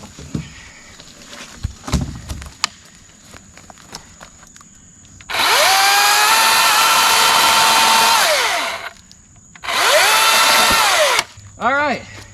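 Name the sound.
top-handle chainsaw cutting wood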